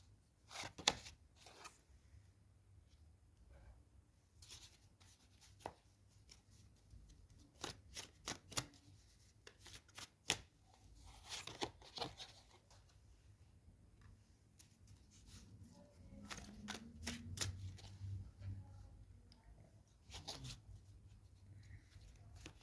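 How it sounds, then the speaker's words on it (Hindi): Tarot cards being shuffled and drawn close up, a quiet series of crisp riffling flicks and soft slaps in irregular bursts, with brief pauses between handlings. "दो कार्ड और निकालेंगे हम।"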